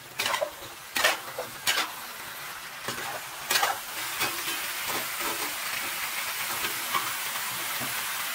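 Pork knuckle being stir-fried with dark soy sauce and lightly crushed water plums in a wok, steady hissing sizzle with sharp scraping clatters of the spatula early on, close and fairly loud.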